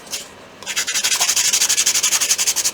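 Quick sanding rub-down of a handmade wooden honey dipper just trimmed with a Stanley knife, a steady rhythmic back-and-forth rasping close up, about a dozen strokes after a brief pause.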